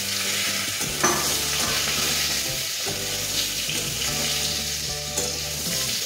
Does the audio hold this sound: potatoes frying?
yes